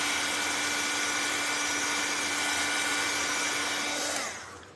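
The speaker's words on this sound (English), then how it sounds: "I'm just running the dryer on it so that I can lay it on here and not have to worry about smearing wet paint anywhere." A craft heat dryer blows steadily on freshly painted gnome pieces, a loud continuous whirring hum with a high whine, running unbroken for about four seconds before cutting off and winding down.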